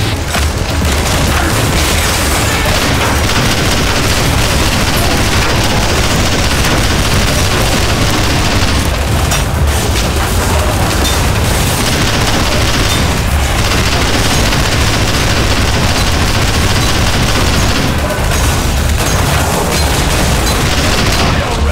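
Dense, loud gunfire and booming blasts fill a Garry's Mod Zombie Survival match, a relentless unbroken barrage of shots and explosions with faint voices buried underneath.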